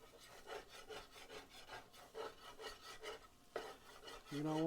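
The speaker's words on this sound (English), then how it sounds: "And you hear that scraping?" A spoon rhythmically scrapes the bottom of a pot while stirring a Creole-style roux, a quiet repeated rasping close by, with a brief louder tone near the end.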